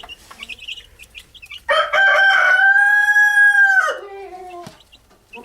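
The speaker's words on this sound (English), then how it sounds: "And of course we got a vocal rooster." A rooster crows loudly and close by, one long drawn-out call that trails off, with faint clucking before it.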